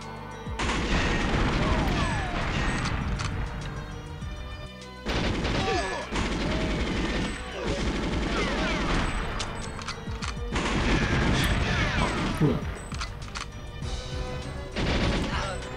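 Gunfire in the video game GoldenEye 64 rattles in dense, loud bursts of shots and booms, nearly continuous with brief gaps, layered over game music and effects.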